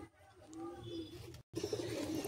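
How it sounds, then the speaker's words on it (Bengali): Pigeons cooing, a Pakistani-bloodline Siakoti female pair kept in a cage, soft rolling coos rising and falling, fairly faint and close, cut by a brief dropout before continuing over a low murmur. "দাদা কি পায়রা দেখাচ্ছ?"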